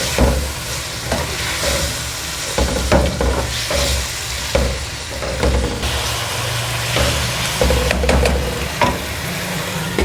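Vinegar and ketchup get stirred into a hot sizzling pan while making chicken macaroni, a steady frying hiss broken by repeated scraping stirs and clinks, close and continuous.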